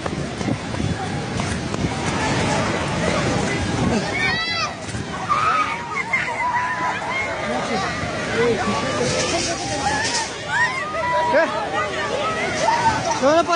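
The flooded Trishuli river rushing through Dhunge Bazaar in Nepal, a constant roar of heavy water under frightened voices calling out and talking throughout.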